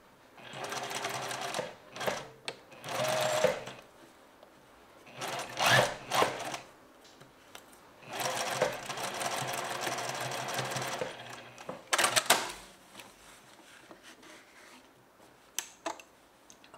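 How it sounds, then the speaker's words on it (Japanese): A sewing machine stitches along the edge of a garment facing in several bursts of rapid needle chatter, with pauses between runs and light clicks as the fabric is adjusted. "見返しの端を7ミリ半で縫います。"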